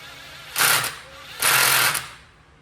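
A handheld power drill straining while turning over a big block Mopar engine, two loud whirring bursts that bog down, separated by a brief pause.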